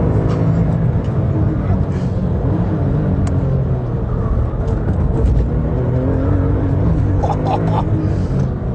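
A Mercedes SLS AMG Black or Porsche 997 GT2 RS engine roaring under acceleration on a race track lap, a loud continuous in-car drone that rises and shifts as the car pulls hard, with a voice talking over it.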